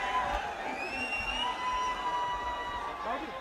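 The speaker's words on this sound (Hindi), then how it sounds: "जोरदार तालियों से स्वागत करेंगे मेरे सब भाई बहन साथी" Crowd at a Congress party rally in Faridabad, Haryana, applauds and cheers to welcome Rahul Gandhi after his 3,000-kilometre march, a steady dense roar of clapping and voices.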